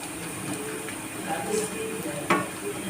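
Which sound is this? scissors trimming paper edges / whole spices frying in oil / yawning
whole spices frying in oil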